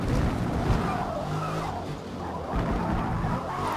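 A Chevrolet Camaro in the racing game Forza Motorsport skids hard with loud, continuous tire squeal and engine roar, the sliding sustained for several seconds.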